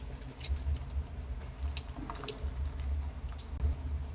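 Tamarind water, made from a lemon-sized lump of soaked tamarind, poured into a pot of hotel-style multi-vegetable sambar, giving a steady close watery pour and splash with faint drips, and no talking.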